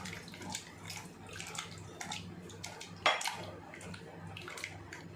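Water splashing and pouring into a bowl of tamarind while making fish pickle, with clinks of dishes and utensils, several small bursts and one sharper clatter midway.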